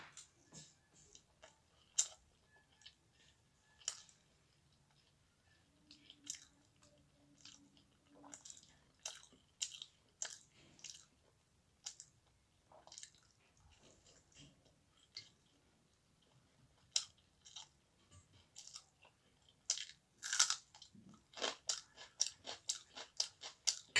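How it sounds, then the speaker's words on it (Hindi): Close, quiet chewing and crunching of raw onion eaten with sattu roti, with irregular bites and crisp crunches scattered throughout that grow busier toward the end. "प्याज भी खाने से बहुत अच्छा लगता है"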